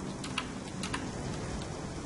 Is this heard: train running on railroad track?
no